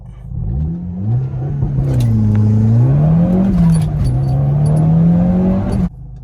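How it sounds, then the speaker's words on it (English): A 2012 Volkswagen Golf R MK6 with a 2-liter turbo engine drives along, its steady engine drone rising and falling through gear changes, close and loud from inside the car with faint clicks and jingles. "It's a 2012 Golf R MK6, whatever, 2-liter turbo"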